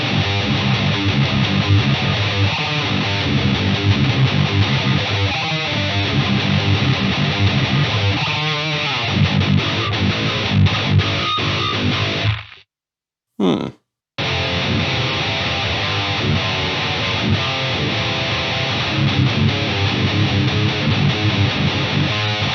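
Electric guitar played through a Fortin 33 boost pedal into an Eleven Rack effects unit, a heavy, brutal distorted tone of continuous dense riffing that cuts out for about a second midway before resuming.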